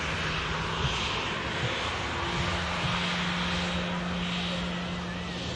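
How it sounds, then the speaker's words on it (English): A Qatar Airways A350 lines up for departure from Manchester Airport, bound for Doha, its engines holding a steady, close roar with a few faint tonal hums running underneath. "Qatar A350 lined up, everybody, for departure back to Doha"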